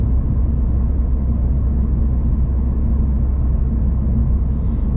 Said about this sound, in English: This is the cabin noise as is.